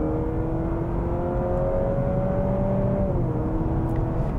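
A 2023 Honda CR-V Sport Touring Hybrid accelerating, heard from inside the cabin as a steady engine drone with a rising whine that climbs then drops as it shifts, loud and continuous with no talk.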